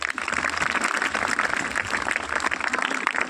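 Students in a school classroom clap together during an NDRF disaster-response visit, a dense, steady wash of applause filling the room from start to finish.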